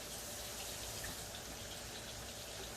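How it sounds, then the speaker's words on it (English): A tap runs steadily as hands are washed at a kitchen sink: a continuous, even hiss of flowing water, faint and unbroken, with no voice. "I'm gonna wash my hands again"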